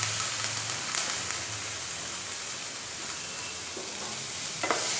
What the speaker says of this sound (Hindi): और इसमें हम सबसे पहले शिमला मिर्च डालेंगे।